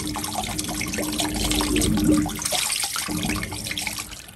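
Water rushes steadily down a drain being cleared in an old auto-parts shop under renovation, a continuous close gurgling flow that swells midway and then eases off, with no voices.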